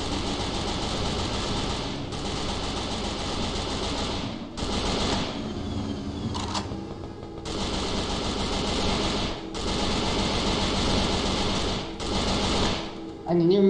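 Sustained automatic gunfire in a shooter video game, long rapid-fire bursts of several seconds each broken by short pauses, loud and close, with players talking at times between the volleys.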